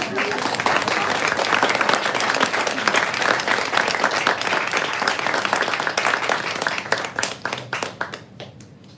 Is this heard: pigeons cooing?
no